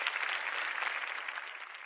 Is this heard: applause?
yes